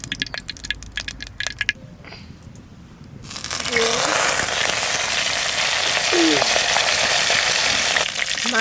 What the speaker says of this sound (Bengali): মাছটা ভাজা করব